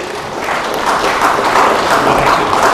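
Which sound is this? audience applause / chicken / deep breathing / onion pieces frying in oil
audience applause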